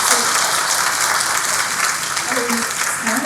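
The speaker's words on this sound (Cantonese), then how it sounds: "我哋俾啲掌聲。" An audience at a church gathering applauds a pastor, with dense, sustained clapping throughout and a voice faintly audible beneath it.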